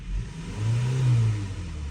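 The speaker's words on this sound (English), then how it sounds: "When I press the gas pedal," A 2026 Hyundai Tucson with only 8 miles on it rises from idle into a steady rev as the gas pedal is pressed, a close, smooth mid-pitched engine hum that swells and then eases back slightly.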